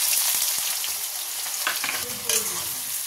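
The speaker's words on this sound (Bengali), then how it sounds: "পেঁয়াজটাকে আজকে একদম ডিপ ব্রাউন করে ভাজবো।" Chopped onion frying in hot oil with whole spices, a steady broadband sizzle filling the clip with a few soft stirring scrapes, close and moderately loud, no talking.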